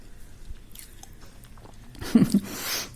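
A bite of eggless sponge cake, made without an oven, is chewed close up, with soft, quiet mouth sounds that become a brief, louder bite and chew near the end.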